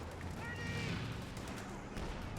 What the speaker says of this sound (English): I heard some explosions and some fire in the distance.